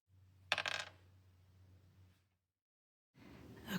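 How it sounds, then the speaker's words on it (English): A die is rolled: a sharp clattering impact followed by a brief rattling tumble and settling, then after a pause another softer rolling rattle, close and quiet. "let's go ahead and roll this dice and see what we get"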